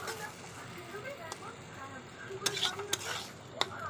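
Fried vegetables for homemade chow mein are stirred in a pan, with a steady scraping rustle and a few sharp utensil knocks against the metal toward the end.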